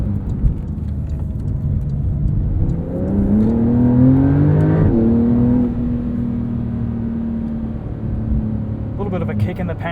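A 2022 Porsche 911 Carrera with PDK gearbox accelerates hard from a launch, its engine note climbing through rising pitch with quick gear changes, heard from inside the cabin under road and wind noise.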